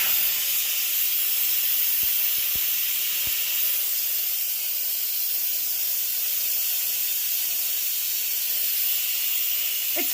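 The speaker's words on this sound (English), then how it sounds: "I'm going to let out the steam" An Instant Pot pressure cooker vents its steam in a steady, loud hiss that runs unbroken throughout, with a few faint clicks early on and no voices.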